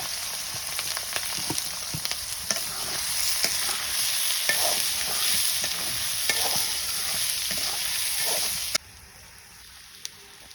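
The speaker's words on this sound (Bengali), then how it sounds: "পেঁয়াজ গিলা ভাজা ভাজা করে নিই" Onions fry in a pan for a village-style fish dish, a steady close sizzle with frequent stirring scrapes, the hiss dropping away abruptly near the end and leaving near quiet with a single faint tap.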